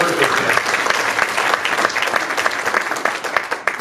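Audience at a realtors' association membership meeting claps loudly and steadily for several seconds, a dense patter of hands that tapers slightly toward the end.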